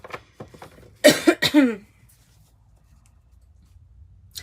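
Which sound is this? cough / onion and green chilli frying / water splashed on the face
cough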